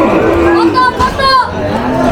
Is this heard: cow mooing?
yes